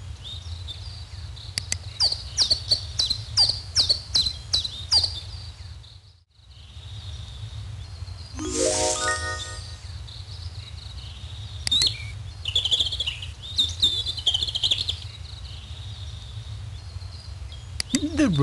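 A robin sings in a series of sharp, high chirps and short phrases over a steady low hum, with a gap of silence midway and a brief voice heard.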